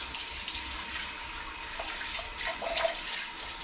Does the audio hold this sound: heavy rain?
no